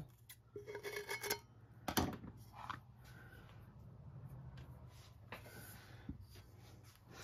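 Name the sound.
trimming a tumbler template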